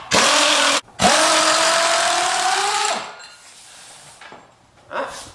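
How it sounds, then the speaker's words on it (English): Air impact wrench breaking loose the tow hook bolts on a Jeep JK, two loud sustained whirring bursts of hammering with a short gap between, then trailing off into quieter shop noise and a final brief burst. "bolts on the tow hook were too tight to pop loose with my ratchet, so I had to go to air"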